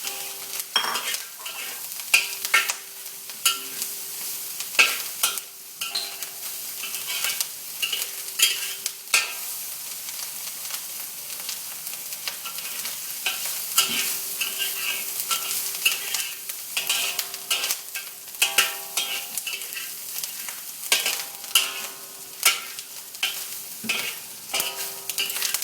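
Mushrooms fry in a pan, a continuous sizzle broken by repeated scraping and clattering strokes of a utensil stirring them, loud and close throughout, with no talk.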